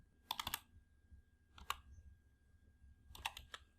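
Three short bursts of keystrokes on a computer keyboard as a dollar amount with decimals is typed into an Excel spreadsheet cell, crisp clicks separated by brief pauses over a low background hum.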